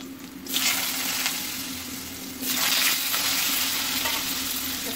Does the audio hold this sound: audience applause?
no